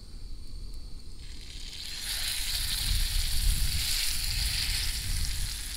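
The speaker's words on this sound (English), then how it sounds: "I'm going to throw the steak on there." Steak searing in a very hot pan with butter, a loud, dense sizzle that swells and stays steady throughout, close up with no talking.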